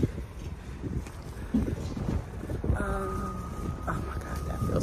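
Outdoor breeze on a sunny, mild day of about 60 degrees, a steady windy rumble buffeting the microphone, with a faint thin tonal sound partway through.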